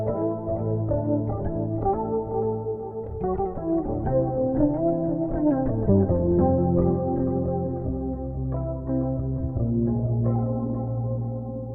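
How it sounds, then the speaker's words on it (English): Electric bass run through a Darkglass Anagram preset with a pitch shifter engaged, layered shifted notes over a steady, effects-heavy bass line, loud and continuous with no talk. "this is where the first pitch shifter is engaged,"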